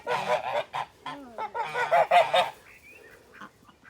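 Several geese honk repeatedly nearby on a homestead, loud nasal calls in quick overlapping bursts, then trailing off into softer sounds.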